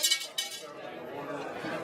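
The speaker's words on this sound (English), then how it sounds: "Drop some sea glass in." Pieces of sea glass drop into a glass vase, giving a couple of bright clinks up close, followed by faint rattling as they settle.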